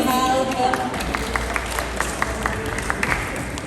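Audience applause at a cooking demonstration in the Germany Pavilion at Expo 2020, a sustained patter of clapping from a crowd with some murmuring voices mixed in.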